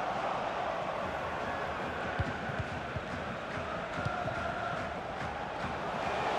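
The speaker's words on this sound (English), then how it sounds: "Being egged on by the crowd." A dense, steady roar of a stadium crowd urging on a player during a FIFA 24 football match, holding at a constant level throughout with a few low thumps and faint voices blending into the wash of noise.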